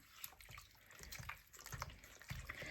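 Water is poured into a crockpot meal, splashing and trickling in short uneven bursts, close and fairly quiet, with no talking.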